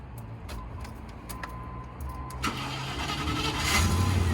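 A 1995 short-wheelbase Range Rover Classic engine cranks with several clicks and whirs, then catches and rises into a steady, louder idle.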